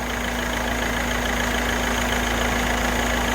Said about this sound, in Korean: 지금 냉각선도 0도신데 아주 정숙한 엔진 소리를 나타내고 있습니다